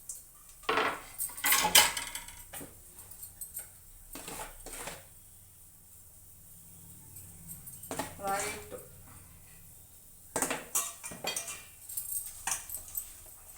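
Salt, coriander leaves, onion and green chili mixed by hand in a bowl, with intermittent clinks and scrapes of dishes and utensils in bursts separated by quieter pauses, close by.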